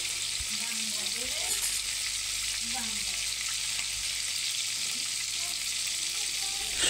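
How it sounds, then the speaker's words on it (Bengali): Tilapia fish frying in hot oil, a constant close sizzle and crackle that runs steadily, with faint voices underneath. "এখন আমি মাছ ভাজি করব"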